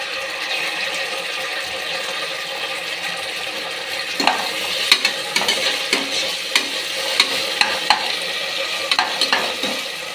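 Ginger-garlic paste fries in a pan for mutton biryani with a constant hissing sizzle, broken in the second half by a run of sharp spoon scrapes and taps against the pan.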